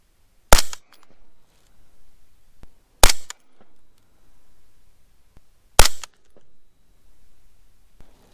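Three sharp suppressed 7.62 rifle shots through an OSS titanium suppressor ring out a few seconds apart, each a loud crack with a brief echo tail, with quiet handling noises in between.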